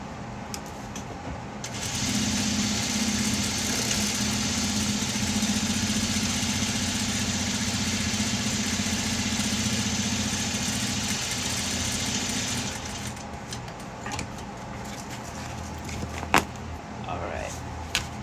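A sewing machine runs a steady, continuous stitching whir for about ten seconds along the edge of a zipper wristlet purse, then stops. A few clicks follow at the end.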